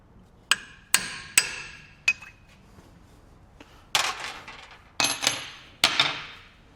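A hammer strikes a metal chisel in a workshop with sharp, ringing metallic blows, first a few spaced hits, then a pause, then several heavier strikes that ring out and decay. The strikes are close and loud.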